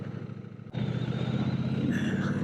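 A 2026 Triumph Bonneville Bobber motorcycle's engine while riding, a close, low throb that swells sharply as the throttle opens and then holds a loud, rising drone.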